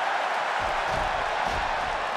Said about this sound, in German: Hört hier dieses Publikum an.